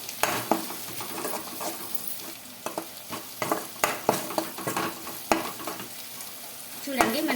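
An onion curry with turmeric and coriander powder is stirred in a pan, the spoon scraping and clinking in uneven strokes over a soft, steady sizzle, with no voices.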